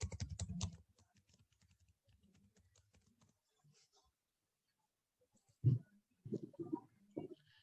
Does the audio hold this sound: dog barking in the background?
no